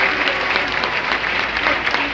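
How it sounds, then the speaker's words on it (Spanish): Crowd applause at a PRI political rally in San Martín Texmelucan, Puebla, a dense, loud, continuous clapping from many people filling two seconds. "que le enviamos un aplauso desde aquí, desde San Martín"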